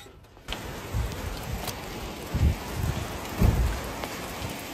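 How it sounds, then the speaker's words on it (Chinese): Steady rain pours outside throughout, a dense continuous hiss with a few heavier gusts and splashes, fairly close and with no talking over it. "他们穿雨装，外边还下着雨呢，"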